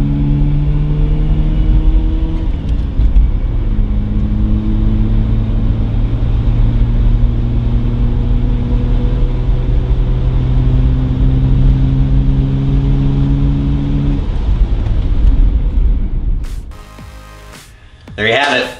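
A Mazda RX-7 with newly replaced brakes cruises loudly up close, its engine holding a steady droning note with gear-shift steps before the drive ends in a brief clunk.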